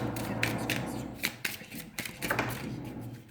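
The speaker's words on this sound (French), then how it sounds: "Donc, je reprends mes cartes." Tarot cards being shuffled by hand, a run of quick papery riffles and flicks in irregular bursts, close and fairly crisp, with a low steady hum underneath.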